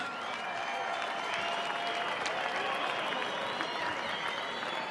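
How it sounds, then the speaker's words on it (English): A crowd applauds two boxers after a fight, a steady wash of clapping and crowd noise held at an even level from start to finish, with no clear speech on top. "A round of applause for these two fighters."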